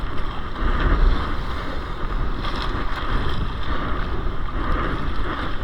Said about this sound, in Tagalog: grabe yung alon oh. Nagpaligsahan ng mga alon.